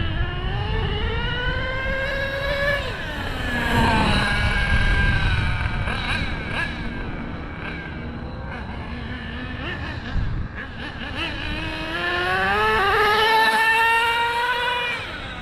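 An HPI RS4 big block RC car whines past at speed, its high-pitched motor rising and falling in pitch through several runs, steady and fairly close throughout.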